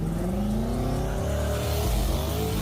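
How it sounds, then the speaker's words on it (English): A twin-turbo car accelerates hard at a street sliding meet in Atlanta, its engine note rising in a loud, sustained rev close by with no voices over it. "Incoming! Twin turbo!"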